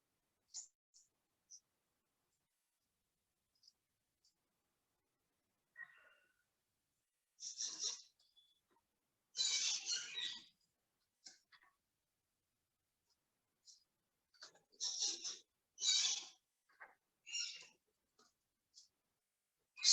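Scissors snip a circle out of paper for a 3D paper lion, giving quiet, close crisp clicks and short bursts of cuts separated by silent pauses.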